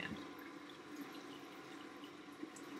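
Tap water runs steadily into a sink while a face is washed during an evening skincare routine, a soft continuous splash with no talking.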